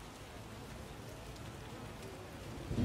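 Steady soft rainfall in The Witcher video game, a faint even patter throughout with a low rumble swelling at the end.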